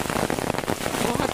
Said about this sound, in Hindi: बहुत तेज बारिश है, ये कितनी तेज बारिश हो रही है